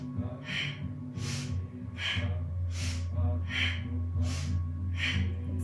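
Slow, deep audible breaths during a guided breathing exercise, each inhale and exhale loud and close, repeating in a steady rhythm about every second.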